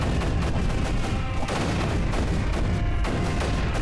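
Mortars fire in the strategy game Creeper World 3, a dense, continuous wash of overlapping booms and rumbling thuds with no breaks, steady and loud throughout.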